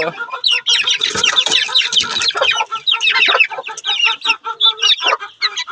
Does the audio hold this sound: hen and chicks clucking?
yes